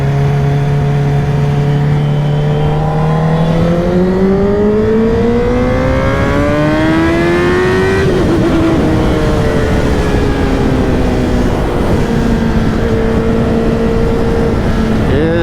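A Honda CBR1000RR sport motorcycle engine revs and climbs through rising, falling pitches, loud and close for the whole stretch, its tone sweeping upward then settling into a steadier drone, with no voices.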